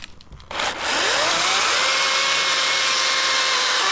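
A battery-powered chainsaw spins up and runs its chain at a steady, loud whine, starting after a brief pause and holding a constant, slightly rising tone near the microphone.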